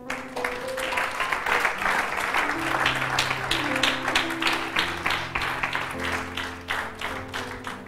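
A church congregation claps rhythmically in unison over sustained organ or keyboard chords, a steady beat of many hands filling the sanctuary, loud and lively throughout.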